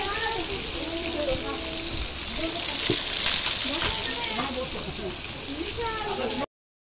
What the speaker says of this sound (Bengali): মাছগুলোকে কি সুন্দর লাল লাল করে ভেজে নিল। আর এইভাবে সব কটা মাছগুলোকে ভেজে নেবে।